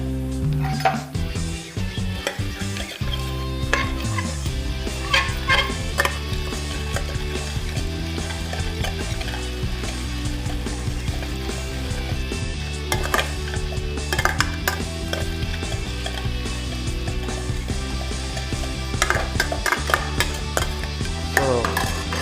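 Bhel ingredients with grated carrot tossed in a bowl, a busy run of clinking and scraping utensil sounds against the dish that continues throughout, set against a constant background of tonal sound.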